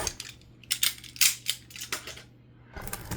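Scissors snipping open 2024 Panini Contenders blaster box trading card packs, a close series of sharp irregular cuts and crinkling foil, loudest in the middle, alone without talk.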